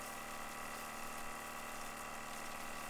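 Water from a Joolca Hottap V2 portable camping shower runs steadily while shampoo is rinsed off, giving a continuous, even, fairly quiet hiss with no pauses.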